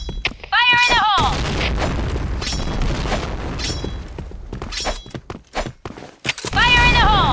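Point Blank video game clan war combat: loud booming blasts and rumbling gunfire roll through the scene, with sharp impacts, while voices call out over the action.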